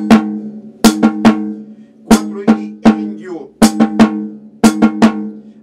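Rhythmic pattern struck on a snare drum (tarola), crisp close hits falling in short clusters across a 4/4 bar, some notes doubled quickly, played alone with no voices.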